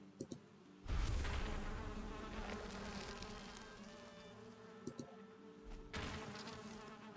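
Bees buzzing in the video game Valheim, a close, loud drone that swells and fades in waves, with short clicks from the stings in between.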